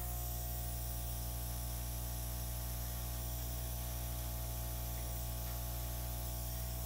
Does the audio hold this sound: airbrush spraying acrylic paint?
yes